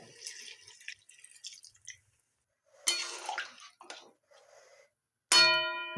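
Water and milk pour into a pan of roasting cauliflower, giving short splashing, trickling bursts separated by brief silences and ending in a sharp sizzle. The sound is close and there is no talking.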